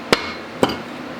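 Two sharp, loud metallic whacks about half a second apart as the cylinder head of a Honda VFR engine is struck loose, close and isolated.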